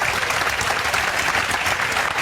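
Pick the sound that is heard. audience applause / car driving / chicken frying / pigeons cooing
audience applause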